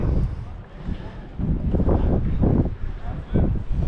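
Gusty wind buffets the microphone at an outdoor dusty, sandy site, producing a low, uneven rumble that rises and falls throughout while someone talks over it.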